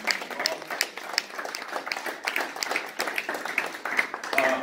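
An audience at a school awards ceremony applauds students, a lively, uneven clatter of individual claps close by, with distinct hand strikes standing out from the smaller crowd.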